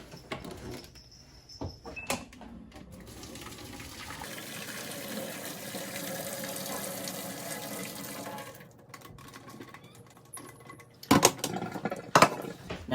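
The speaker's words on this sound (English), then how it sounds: "Potatoes are done, and it's time to drain the water." Water from a pot of boiled potatoes pours out steadily into a sink for several seconds, framed by clanks and knocks of the pot and drain before and after.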